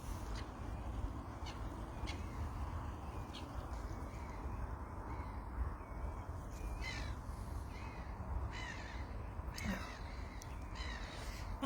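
Crows caw repeatedly by an estuary at sunset, several scattered calls at moderate distance over a steady outdoor wind and background hush, with no talking.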